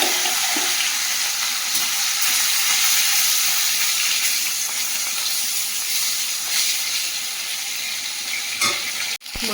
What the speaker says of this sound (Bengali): তেলটা দিয়ে দিয়েছি, এবার মাছগুলো ভেজে নেব।